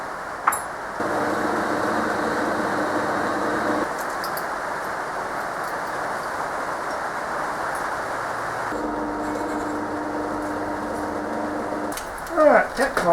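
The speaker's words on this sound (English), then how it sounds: "Right, now to do some pilot drills." Pilot holes being drilled into metal in a workshop, a steady whining drill tone that runs for a few seconds, stops briefly, then starts again, with a few small knocks at the end.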